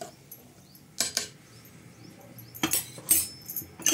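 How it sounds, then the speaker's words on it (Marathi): Moth beans are stirred in turmeric water in a pot. A spoon clinks and scrapes against the metal in a few short bursts, with quiet stretches between them. "ह्याला व्यवस्थित हलवून घेऊ।"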